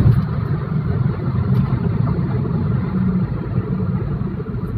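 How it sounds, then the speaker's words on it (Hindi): A VW Polo engine runs steadily as the car gathers speed during a trial drive to check for overheating, giving a continuous low, even rumble with no voices. "हम थोड़ा सा स्पीड बढ़ाएंगे गाड़ी का ताकि इंजन का टेम्परेचर बढ़े"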